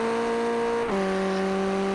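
A Formula 1600 race car engine at Summit Point holds a steady, buzzing high pitch, then drops sharply in tone as it shifts or lifts. Loud, close and continuous, with no voices.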